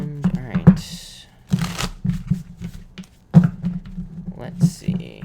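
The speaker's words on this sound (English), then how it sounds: "All right, 2 more shuffles here, everybody, before we do this good old pick a card." Tarot cards are shuffled in several quick riffling bursts, each a short papery flutter separated by pauses, while a person talks over the handling.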